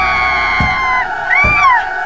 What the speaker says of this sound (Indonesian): terdengar juga teriakan